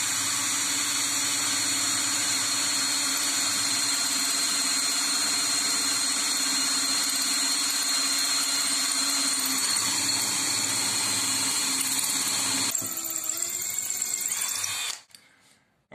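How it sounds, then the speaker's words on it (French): A steady, loud, close electric drill bores into a plaster and brick wall without hammer action. It whines continuously, the pitch shifts near the end, and then it stops abruptly. "On essaie toujours de percer sans percussion pour ne pas éclater la brique"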